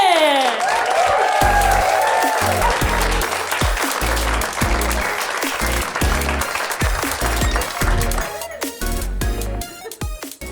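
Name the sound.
audience applause at a stand-up comedy show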